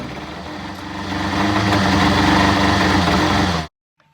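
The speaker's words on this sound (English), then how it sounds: "I don't like the sound of the engine myself." A 1988 Toyota MR2 engine runs steadily after timing belt work, a loud, close mechanical drone that swells slightly and then cuts off suddenly, leaving near silence.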